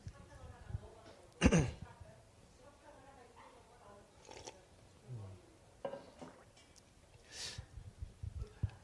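Scattered coughs and throat clearing from a church congregation during a service, several bursts at irregular moments, one sharp and close, others fainter, among low murmuring voices.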